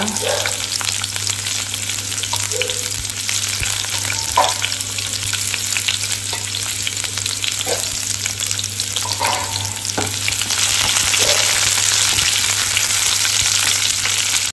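Onion fries in hot oil in a pan for a horse gram dish, giving a loud, steady sizzle broken by occasional stirring scrapes and a low background hum, with no voices.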